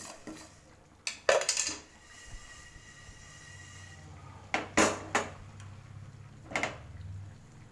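Fenugreek seeds lightly roasting in a hot pan for Andhra-style tomato chutney: a few sharp metallic clinks and scrapes at irregular intervals over a low, steady hum, with no talking.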